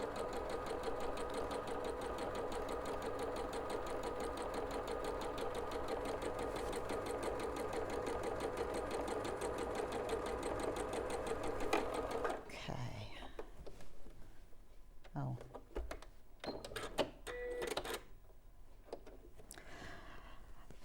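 A sewing machine runs steadily, stitching together large fabric squares, its continuous mechanical whir lasting about twelve seconds before stopping abruptly, followed by quieter handling noises and faint soft speech.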